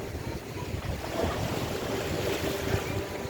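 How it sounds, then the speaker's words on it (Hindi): Sea waves wash onto the shore on an evening seaside, a continuous, fairly loud roar of surf mixed with gusty wind buffeting the microphone, with no talk. "और ये समंदर"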